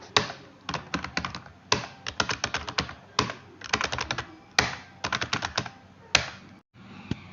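Rapid typing practice on a computer keyboard, crisp close key clicks in uneven bursts with short pauses and occasional heavier thumps, likely the space bar, with no talking.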